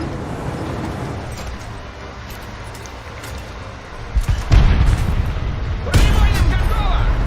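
Heavy KV-85 tank cannon fire in a tank video game: a sharp booming blast followed by a second loud report, both over rumbling battle ambience with someone talking throughout.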